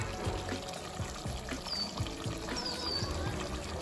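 Meat masala and yogurt poured into mutton in a cooking pot, giving a steady close-up clatter and pour with small bumps and scrapes throughout, no talking.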